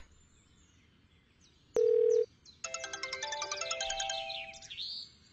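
A short steady beep sounds, then a bright melodic phone ringtone plays a quick run of electronic notes, fairly loud and alone.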